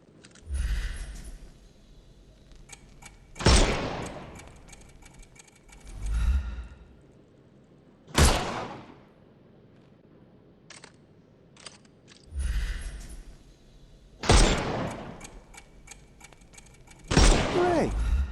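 Gunfire in a Sherlock Holmes game blasts armour off enemies, heard as several sharp, loud bursts spaced a few seconds apart. Softer ticking and clicking noises fill the gaps between shots.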